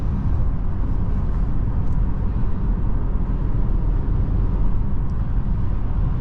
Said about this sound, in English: It's just natural, good quality sound coming from the engine and the exhaust.